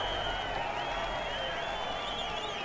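A crowd in the video game Road 96 cheers and applauds steadily, a dense sustained roar of clapping and voices that holds at an even level throughout.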